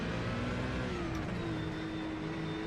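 A Porsche 992 race car in a sim racing game revs hard with a sustained whining drone, engine pitch climbing steadily, loud and continuous with no talk.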